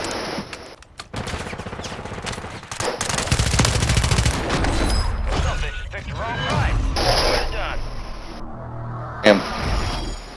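Rapid gunfire from automatic weapons in a Call of Duty match, loud and dense bursts filling the clip with a sharp crack near the end.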